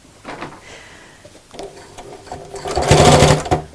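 A sewing machine stitches a quilted shopping bag in short bursts, starting and stopping before one louder, faster run of stitching near the end.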